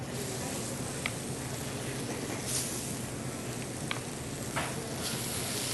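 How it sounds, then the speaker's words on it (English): Lamb chops sauteing in a smoking hot cast iron skillet give off a steady, soft sizzle and hiss with a few faint pops and clinks, continuous and fairly quiet. "Let's start sauteing our lamb chops."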